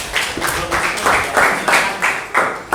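Classroom audience clapping in a patterned rhythm, repeated bursts of hands striking together at a steady beat, close and moderately loud.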